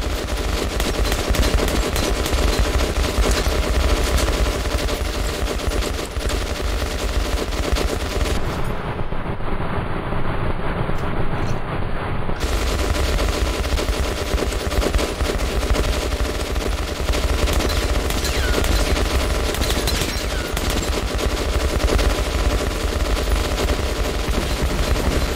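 Sustained gunfire from the video game Metro: Last Light, a dense, loud stream of shots and bursts running throughout a frantic final battle, with a brief drop in the high end partway through.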